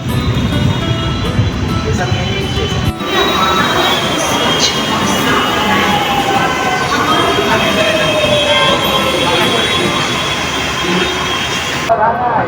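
Loud continuous rumble of a Mumbai metro train in motion near Gundavali station, Andheri, with a long wheel squeal and rattling, heard from inside the carriage.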